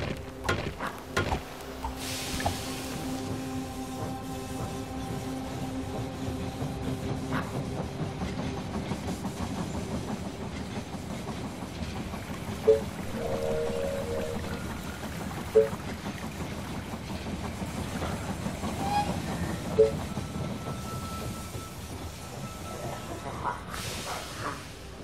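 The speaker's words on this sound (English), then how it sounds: "The train has arrived at the station." Train arriving at a station in the strategy video game They Are Billions, a soft rumbling rail rolling with faint clicks and hiss under steady ambient game sound.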